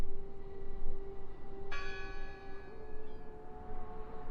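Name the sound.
church bell ringing in video game Draugen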